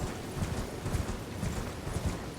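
Horse hooves clip-clopping at a steady trot while riding in a video game, a continuous rhythmic patter over dense background noise, close and moderately loud.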